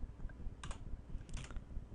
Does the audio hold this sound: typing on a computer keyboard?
yes